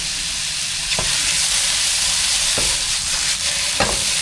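Wan tan hor noodles stir-fried in a wok over a strong fire make a loud, continuous sizzle, with a few sharp scrapes of the spatula cutting through and no voices.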